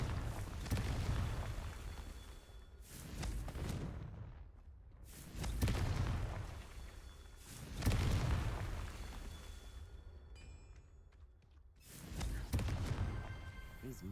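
Deep booming blasts from a Confringo fire spell in a Harry Potter video game, four or five heavy explosions spaced a few seconds apart, each rolling off into a rumbling tail with brief quiet gaps between them.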